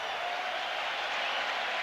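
A big Wrigley Field crowd at a 2003 Cubs–Braves playoff game cheers and claps on two strikes, producing a steady, broad wash of roaring applause throughout.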